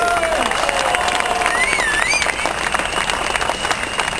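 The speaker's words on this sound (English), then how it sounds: "Can we have a round of applause for Kenya, please?" Crowd at a Reform Party election rally in Singapore breaks into a round of applause, steady dense clapping filling the space with a few whistles and voices rising over it.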